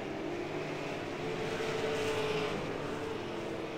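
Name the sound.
race cars on oval track coming off turn 4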